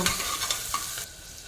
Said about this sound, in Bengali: লো ফ্লেমে পেঁয়াজটাকে ভেজে নেব